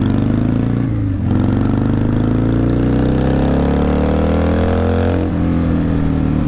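A 1997 Harley Davidson Sportster XL1200S engine roars close and loud as it pulls through the gears, with a brief dip near the start and another around five seconds as the revs shift; no talking.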